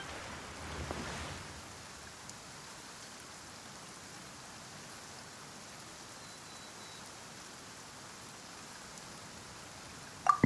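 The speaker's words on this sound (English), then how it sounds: "Why is it raining all of a sudden?" Soft, steady rain in the video game Genshin Impact patters continuously at a low level, a gentle hiss with a slight bump near the start.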